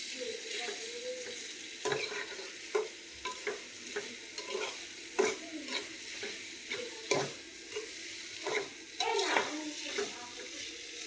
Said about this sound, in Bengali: চিংড়ি মাছগুলো পেঁয়াজের সাথে একটু ভেজে নেব।